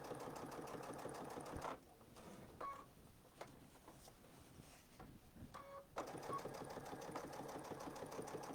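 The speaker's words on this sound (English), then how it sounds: "So that's how I like to do my machine binding." A sewing machine stitches binding onto a quilt, its fast rhythmic mechanical whirr running steadily, pausing for a few seconds with soft handling clicks and fabric shuffling, then resuming at full speed.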